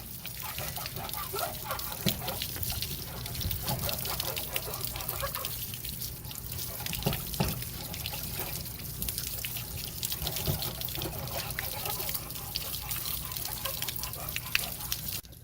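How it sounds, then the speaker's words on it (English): Water drains from an RV water heater and gurgles continuously, with dripping and trickling sounds, moderately close and steady throughout. "So let it just gurgle a little bit."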